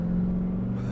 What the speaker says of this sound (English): Broke the tires loose a little bit on that gravel